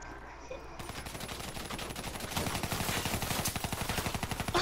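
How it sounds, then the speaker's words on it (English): Automatic weapon fire in Black Ops 3 Prop Hunt builds into a fast, steady rattle of evenly spaced shots, loud and close, after a quieter opening. "I'm shooting everything, man."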